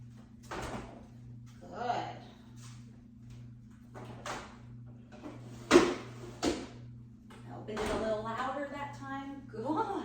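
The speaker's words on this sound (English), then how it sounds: "Now I'm not going to open the drawer all the way, I'm just going to open it a little and shut." A drawer slides open a little and shuts again indoors, short wooden knocks and scrapes among a few sharp sounds, with a person talking calmly between them over a steady electrical hum.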